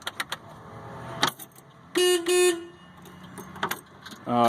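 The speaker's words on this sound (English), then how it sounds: "I do like the fact that this thing has a horn on it." The horn on an LS XR4155 compact tractor gives two short, loud, close honks, with light clicks and rattles before and after them.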